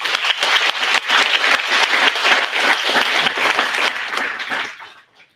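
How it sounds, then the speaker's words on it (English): A large crowd at an award recognition event applauds steadily, dense continuous clapping that holds strong for several seconds, then tapers off and fades out. "let's give Hannah a huge round of applause"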